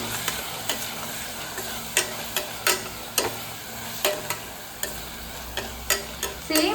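Spoon stirring mushroom biryani masala mixed with garam masala in a pan, a series of sharp scraping clacks at irregular intervals over a faint sizzle, close and fairly quiet.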